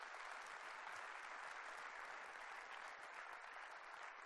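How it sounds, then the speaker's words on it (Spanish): A church congregation claps in steady, even applause that is fairly faint and sustained, with no talk over it. "dar un aplauso al Señor, que Él se lo merece"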